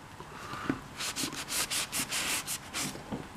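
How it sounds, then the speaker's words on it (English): A rag scuffs and rubs a freshly painted surface on a DIY vintage industrial knife switch, giving rapid, close, rhythmic swishing strokes in a quick series, with no talking. "Let's hit it with a rag here and kind of scuff it up a little bit."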